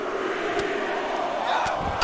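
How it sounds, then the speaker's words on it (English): Live wrestling crowd at an independent E.F.W. show chanting a count in unison along with headbutts in the ring, a steady broad roar of many voices throughout, with sharp rhythmic bursts near the start and the end. "Crowd counting along"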